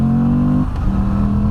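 Moto Guzzi V85 TT engine note under acceleration, a close steady drone that dips briefly mid-way, like a gear change, then carries on smoothly.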